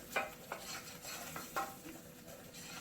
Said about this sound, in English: I have some plain flour here which is a heaped tablespoon, so put that straight in and then just mix it all into the butter quickly